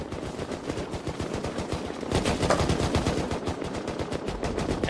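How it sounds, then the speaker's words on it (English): Wall-mounted cannons fire in rapid, rhythmic succession during a large battle in Albion Online, a dense barrage of thudding shots that grows louder and busier midway through. "They're able to cover themselves from the sides while shooting cannonballs directly at that."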